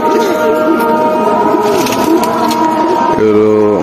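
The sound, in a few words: silver pigeon cooing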